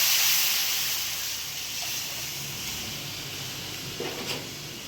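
Whole spices, dried red chilies, curry leaves and asafoetida sizzling in hot oil for a Gujarati kadhi tempering, a steady broad hiss that is loudest at the start and eases slightly, with a brief crackle near the end.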